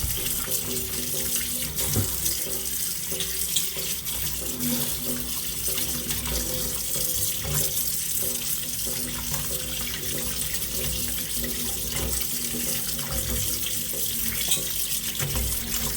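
Kodampuli (Malabar tamarind) gets washed under a running kitchen tap, with water splashing steadily and unbroken into a sink for the whole stretch, close and fairly loud.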